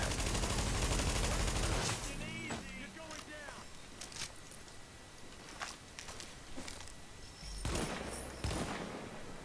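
Bursts of automatic rifle fire crackle through a firefight in the video game The Division, loud at the start and then in scattered shots and bursts, with a synthetic voice and game sounds threaded through the action.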